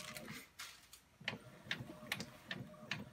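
A home printer slowly feeds a sheet of deli paper through, giving faint, evenly spaced mechanical ticks and clicks about every half second, quiet and close with no voices.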